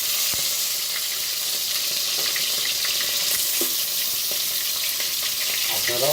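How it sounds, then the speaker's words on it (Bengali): Pieces of native chicken dropped into hot oil in a home kitchen fry with a continuous bright sizzle and hiss, steady and close, broken only by a few faint pops and the clink of a utensil. "এখন আমি মুরগিটাকে অবশ্যই পিস পিস করে এই যে এভাবে পিস পিস করে ছেড়ে দেব।"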